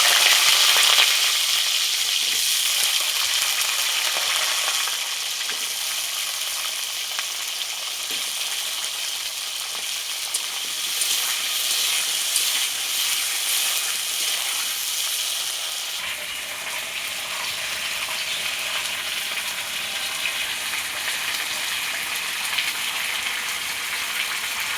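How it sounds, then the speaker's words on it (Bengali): Potatoes hit hot oil seasoned with panch phoron and bay leaf, producing a loud, dense, continuous sizzle and crackle that settles slightly after the first seconds and keeps bubbling steadily throughout. "এইবার আমি আলুগুলো ছেড়ে দেবো।"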